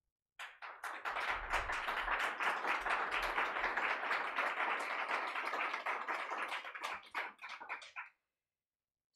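Sustained audience applause at a legislative district general election debate, a dense wash of many hands clapping that fades out near the end, with no talk over it.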